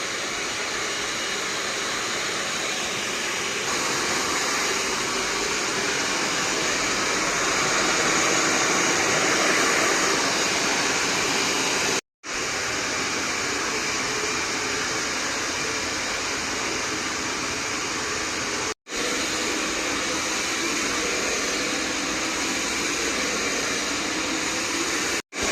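A hair dryer blows loudly and continuously in a salon with a steady rushing whoosh, cut off briefly twice, with no talking.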